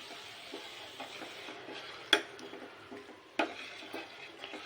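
Stirring melted jaggery through vermicelli payasam in a pot: soft, faint scraping strokes with two sharper spoon clicks against the rim, no voices.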